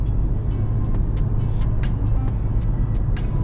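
A 2015 Mercedes-Benz A-Class with 184 hp accelerating on a road, heard from inside as a steady, loud engine and road roar with sharp ticks repeating throughout, no talk.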